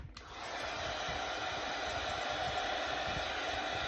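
A hair dryer blows steadily on a painted mason jar ornament, switching on with a click and then holding a constant, fairly loud whooshing hiss alone for a few seconds.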